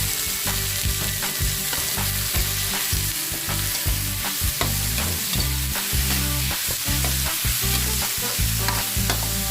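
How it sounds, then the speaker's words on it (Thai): Beef is stir-fried with chili and garlic in a hot pan, a steady loud sizzle broken by repeated scraping and clanking strokes of a spatula, with no talking. "ก็จะคั่ว คั่วเนี้ยจนพอสุกนะครับ พริกกระเทียมก็เริ่มหอมแล้ว"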